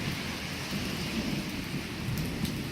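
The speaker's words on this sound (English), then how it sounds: "lightning and thunder and rain" A Christmas thunderstorm in Nebraska brings steady, dense rainfall with a low, continuous rumble of thunder underneath. The storm sounds distant and fairly quiet, with no one talking.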